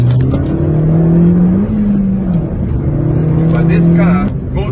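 A Suzuki Swift Sport's engine revs hard and close, pitch climbing, dropping briefly at a shift, then climbing again to a high, strained note before easing off.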